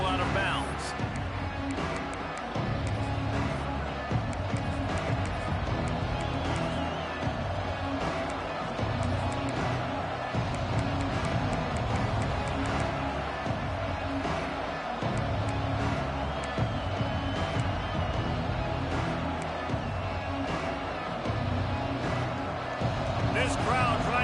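A home stadium crowd at an American football game keeps up a loud, steady roar that swells and dips throughout, with a commentator talking over it.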